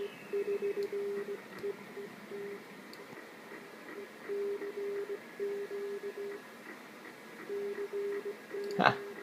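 A USB-controlled SDR receiver built around an SA612 mixer and AD9850 DDS picks up a steady PSK31 digital tone alongside keyed Morse code beeps, pulsing in short bursts over band hiss with a sharp crackle near the end.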